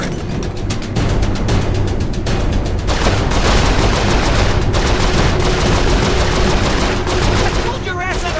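Ship-mounted turret guns in a video game fire in dense, continuous bursts, a loud rattling barrage that carries on almost without a break across the whole stretch.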